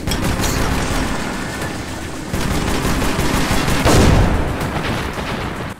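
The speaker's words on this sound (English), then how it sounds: "Let's try and throw grenades at it and kill it" Grenades thrown at a monster in the video game Metro 2033 Redux: loud, dense bursts of gunfire-like blasts with a heavy boom near the end, continuous and close, with no talking.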